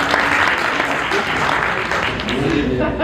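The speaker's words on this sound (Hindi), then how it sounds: "पुरजोर निजामत के लिए भी तालियां बजा दीजिए।" Steady applause from the audience at a mushaira poetry gathering in Houston, continuous clapping with some voices blended in beneath it.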